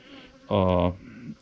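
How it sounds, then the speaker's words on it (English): A honeybee buzzes loud and close by a sugar-syrup feeding tank during beekeeping work, one short burst of droning hum lasting under half a second amid quiet background. "Get out of here, bee. Quit trying to sting me."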